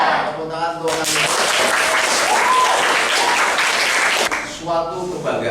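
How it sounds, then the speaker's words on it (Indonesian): A classroom of students claps loudly for a few seconds, a dense burst of applause framed by a voice talking briefly before and after it. "Tepuk tangan untuk kalian."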